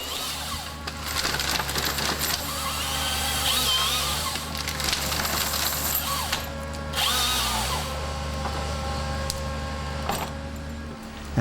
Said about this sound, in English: This whole machine is called a SingleGrip Harvester